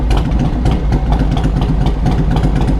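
A Harley-Davidson Road King motorcycle engine idles close by with its choke just turned off, a loud, steady low rumble with an even, lumpy pulsing beat and no voices over it.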